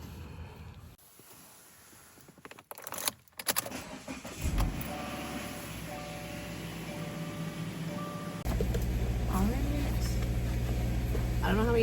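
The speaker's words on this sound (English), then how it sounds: "We're pulling out of the garage." Car pulling out of a garage: keys rattle and clunks sound before the engine starts and settles into a steady idle hum, with a person talking intermittently over it.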